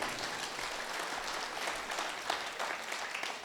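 An audience at a Dussehra fair kavi sammelan in Kapasan bursts into dense, sustained applause, many hands clapping together at a distance with no talk over it.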